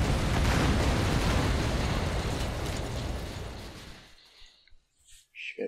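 A rocket explosion in Metal Gear Solid V: The Phantom Pain opens as a loud, dense roaring blast that slowly decays over about four seconds. Quieter clicks and short game sounds follow.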